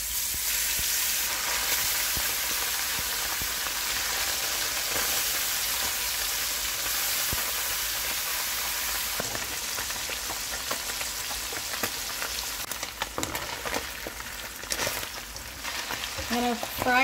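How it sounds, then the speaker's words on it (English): Fish frying in hot oil in a cooking pan, a Guyanese coco belly fish, seasoned and left to brown until crispy: a steady, dense sizzle and crackle close by, continuous throughout with a few sharper pops near the end. "I'm gonna fry it and let it fry brown until it's crispy."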